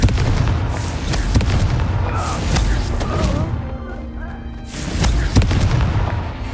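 A Confringo fire spell exploding in the video game Hogwarts Legacy, with several heavy booming bursts at irregular intervals amid crackling combat effects, loud and close, with some in-game voice sounds mixed in.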